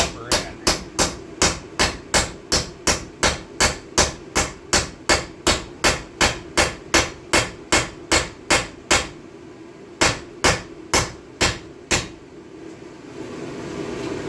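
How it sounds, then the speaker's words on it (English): Hammer tapping a U-joint into a 1998 Dakota truck drive shaft with rapid, evenly spaced metallic blows, about two per second for nine seconds, then a short pause and a few slower strikes. "So I just tap it in, making sure to keep the hammer flat"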